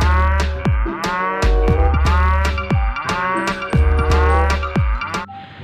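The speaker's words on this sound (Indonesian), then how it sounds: "Ini adalah sapi perah" A toy dairy cow plays a loud, continuous electronic moo with a looping musical tone underneath, steady for several seconds before cutting off.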